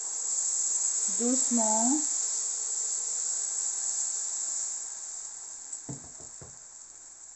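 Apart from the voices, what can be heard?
crêpe batter sizzling on a SylverCrest crêpe maker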